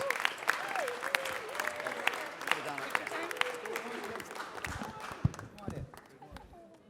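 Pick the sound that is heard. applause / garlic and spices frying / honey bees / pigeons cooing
applause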